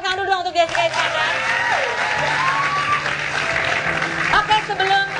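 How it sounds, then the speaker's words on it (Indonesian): Studio audience applause on an Indonesian TV talk show, a dense sustained wash of clapping and crowd noise lasting throughout, with a presenter's voice and music partly mixed in. "tepuk tangan dulu dong"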